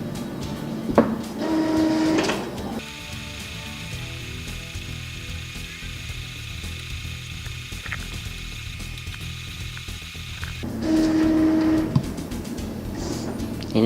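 An Epson L1110 inkjet printer feeds and prints on glossy photo paper: short mechanical whirs and clicks at start and end bracket a long, steady ratcheting motor drone of the print head, close and alone.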